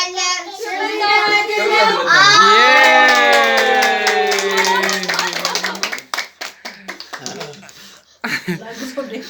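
Group clapping at a child's birthday party, with children's voices singing and shouting over it. The claps grow into a quick, uneven patter of sharp hits near the end.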